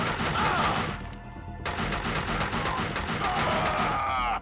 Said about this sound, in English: Let's just shoot him with the AK.